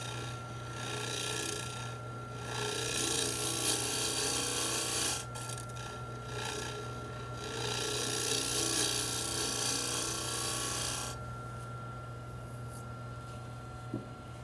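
A wooden toy top spinning on a wood lathe while excess glue is scraped off, giving a steady droning hum under a rough, rasping scrape that swells and eases in passes, with no talk.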